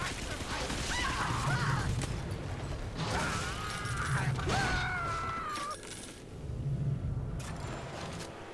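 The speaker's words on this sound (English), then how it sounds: "I hear a creak of my home." Creaking in the video game Bioshock 2, with long groaning metallic creaks and mechanical strains that rise and fade in waves over a low rumbling background.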